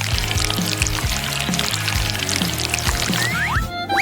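Melted red chocolate poured over a cake, a steady close pouring and sizzling wash that runs continuously with a few small clinks, no talk.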